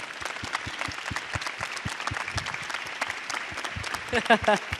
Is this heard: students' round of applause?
yes